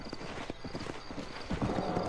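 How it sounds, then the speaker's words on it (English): Horse hooves clop in a quick, uneven rhythm at close range, growing a little louder near the end, in the video game Red Dead Redemption. "A horse."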